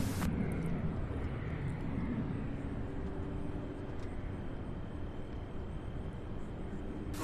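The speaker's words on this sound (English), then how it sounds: "So that is the last 747 Queen heading out today to Anchorage, Alaska." A Boeing 747 freighter departs an airport bound for Anchorage, Alaska, its jet roar a steady, broad rumble that holds constant throughout, moderately distant.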